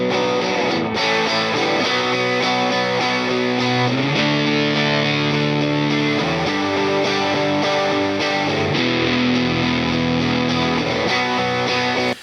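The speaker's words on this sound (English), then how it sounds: "It gets so high that the compressor hears that as the loudest thing, and it turns everything down" A dense rock mix plays continuously, a distorted fuzz guitar riding over rhythm guitars through a compressed bus so the whole mix swells and ducks, loud and steady with no talking.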